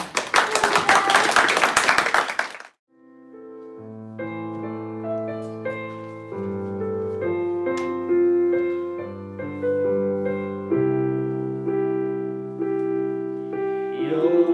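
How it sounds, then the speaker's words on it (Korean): A church congregation at a high school youth worship service claps loudly for about two and a half seconds, then stops abruptly as sustained keyboard or organ music begins and carries on alone. "우리 선생님 이상현 선생님 우리 축하하면서 우리 이 예배의 주인공이신 우리 하나님께 영광을 박수를 올려드리면서 마치도록 하겠습니다."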